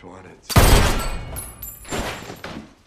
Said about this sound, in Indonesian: Dan Scudder pun langsung menembak babatok mastaka si begundal itu